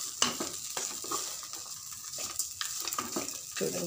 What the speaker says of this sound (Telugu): ఇదంతా కలిపేసేసుకోవటమే.